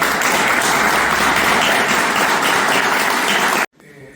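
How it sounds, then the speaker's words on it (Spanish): A conference audience claps loudly for a priest about to speak, a thick sustained round of applause lasting over three seconds before it cuts off abruptly, leaving a faint room murmur. "pido antes un fuerte aplauso para él"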